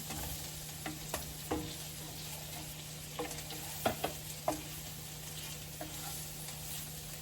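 Tofu fries in hot curry oil, a steady close sizzle broken by occasional scrapes and clacks as it is stirred around the pan, with no talking.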